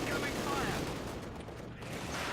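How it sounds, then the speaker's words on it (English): MG42 machine gun fire in Company of Heroes 2, aimed from a trench at conscripts in a house, forms a steady, dense crackle of rapid shots that fills the whole short stretch at an even, fairly loud level. "MG42 taking some shots at the conscripts in this house"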